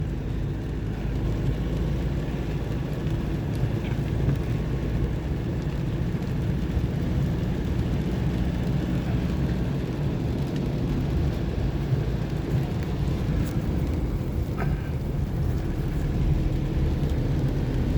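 Steady rain and road traffic heard from inside a vehicle driving on a main road at night on the way to a night shift, a constant low rumble of tyres and engine with rain noise, no talking.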